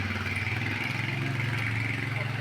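A motorbike engine runs steadily at idle on a roadside, a close, even low putter with a regular pulsing rhythm throughout and no break.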